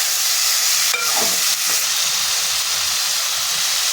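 Five large ripe tomatoes fry in a pan for a Marathi tomato chutney, giving a continuous bright sizzle and hiss, with a couple of short scraping stirs near the start and no talking.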